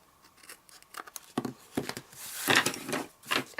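Scissors snip away excess craft material up close in a quick series of sharp, crisp cuts and rustles, faint and uneven in rhythm.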